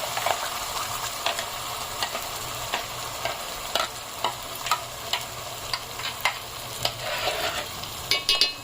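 Ground masala paste fries in a pan with a continuous sizzle and a series of regular clicks and taps as a utensil stirs and scrapes it, growing busier toward the end.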